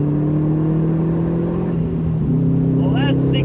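Subaru WRX STI engine blips and drops revs during a heel-toe downshift into second gear, a steady loud drone shifting pitch midway, with a voice talking over it.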